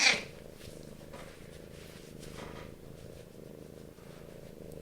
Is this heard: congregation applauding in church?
no